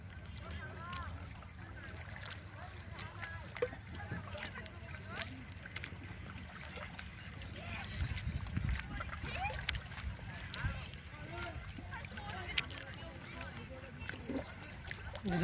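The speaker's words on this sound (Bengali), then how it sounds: "আজকে হচ্ছে নদীর অবস্থা দেখেন, কি পরিমাণ বাতাস আসছে।" Strong wind sweeps over a swollen river at Rajshahi while fishing from a boat, a constant low rumble and buffeting roar with faint water sounds beneath, under someone talking throughout.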